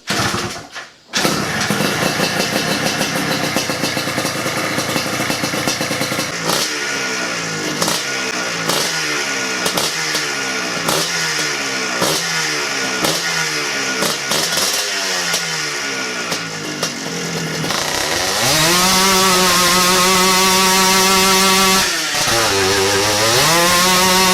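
A minibike engine with a repaired clutch starts after a quiet moment, then revs in a series of rising pulls through the gears. It ends in a loud, sustained high-revving run, close to the microphone, with no talking.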